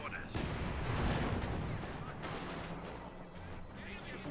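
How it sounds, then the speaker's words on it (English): Gunfire in Company of Heroes 2, a dense rumbling barrage of shots and blasts from an open-field battle, loud at first and easing slightly, with commentary talk over it. "Guns being shot to out in the open."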